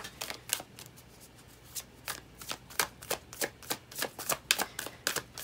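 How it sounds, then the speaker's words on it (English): Rapid riffling of a deck of tarot cards being shuffled, a steady series of crisp flutters and snaps, close and clear with no talking. "we're gonna do one more quick little shuffle here"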